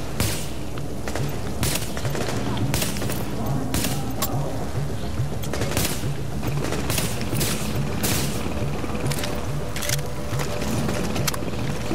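Gunfire in the video game The Division: repeated sharp shots and volleys crack over a dense, constant background of combat noise, with no pauses.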